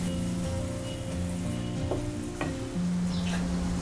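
Fenugreek paratha filling stirred in a pan with amchur and black pepper, a soft steady sizzle and scraping running throughout, with a few clinks from the spoon against the pan.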